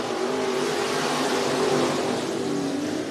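IMCA Modified race cars roaring around the dirt oval at Cottage Grove Speedway in Oregon, a steady loud blend of engines at full throttle with no gaps, packed close together.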